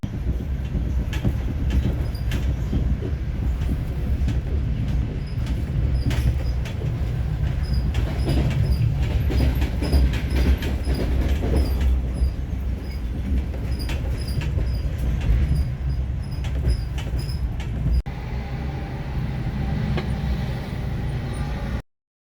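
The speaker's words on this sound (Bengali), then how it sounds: "আর এগুলো তো নন স্টপ ট্রেন," Non-stop passenger train running from Tashkent to Samarkand, heard from inside as a steady loud rumble with rail clatter and faint high squeals throughout, no talk.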